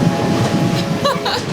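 Riding aboard a Panama Railroad train along the canal, a steady close rumble of the moving carriage with faint rattling on top.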